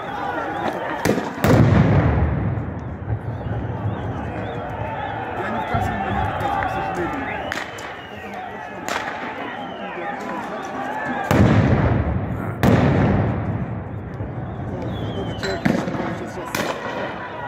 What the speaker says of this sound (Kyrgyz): Адамдарга көздөн жаш чыгаруучу газ чачып, резина октор менен атып жатышты.